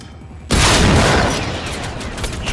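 Shotgun blast in the video game Generation Zero, a single loud, sudden boom that cuts in from a quiet background and rings out into a long, broad decaying tail.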